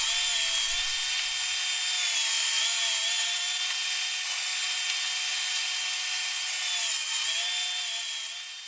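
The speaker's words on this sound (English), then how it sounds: "moving the fence up and cutting them all down to size" A table saw cuts wooden border pieces to size for an outdoor end table top, a steady high whining drone running continuously and close with slight pitch wobbles, tapering off at the end.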